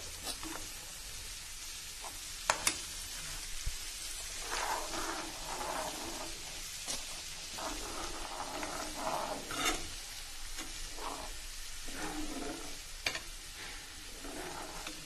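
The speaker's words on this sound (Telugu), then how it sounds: "నూనె మరగడం కొంచెం స్టార్ట్ అవుతుందండి." Neem leaves simmering in oil at low heat, a continuous close hiss and crackle with scattered louder pops and occasional stirring scrapes throughout.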